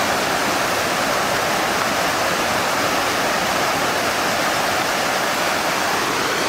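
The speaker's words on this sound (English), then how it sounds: "I'm right on Separation Creek" Separation Creek flows through a meadow in the Three Sisters Wilderness with a constant, close, full rushing roar. The sound stays even and unbroken from start to finish, with no voices.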